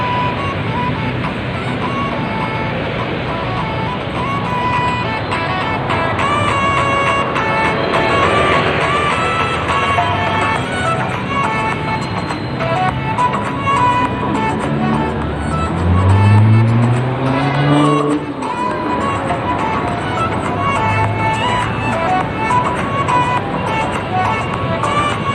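Road traffic with cars moving along a congested street carries a steady engine drone and tyre noise throughout, with one vehicle rising and passing close by midway and no talk.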